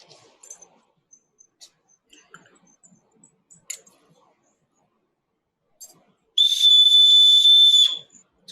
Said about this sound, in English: Light infantry regiments gave their commands frequently on close quarters using a command whistle like that.